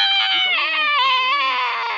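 An angry chicken in The Sims 4 lets out a loud, shrill, wavering scream, sustained for about two seconds with a bleating, goat-like warble.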